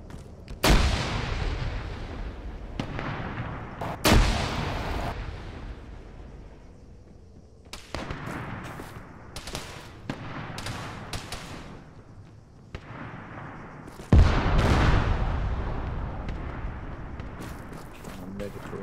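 Arma 3 gunfire, including a .50 cal rifle shot at a tower, comes as several loud, sharp booming reports spaced through the stretch with rumbling tails, while players talk over the fighting.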